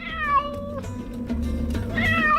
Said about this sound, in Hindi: ये बिल्ली की आवाज है?